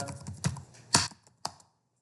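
Typing on a computer keyboard while entering text in MS Word, four or five sharp, close key clicks spaced unevenly before falling silent.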